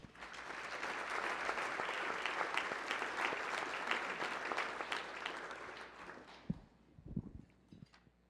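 Audience applause at a public forum on development and gentrification in Portland, a steady dense wash of clapping lasting about six seconds before fading into a few scattered claps and shuffling noises.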